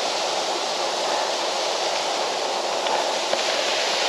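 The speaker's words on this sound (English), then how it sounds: "Sourmilk Gill, waterfall" Sourmilk Gill waterfall in the Lake District fells, a steady, dense roar of rushing water that holds constant and close throughout without pause.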